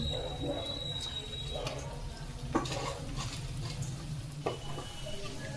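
A second batch of vegetable Manchurian balls goes into hot oil for deep-frying, producing a quiet bubbling sizzle with a few sharp utensil clinks while someone talks.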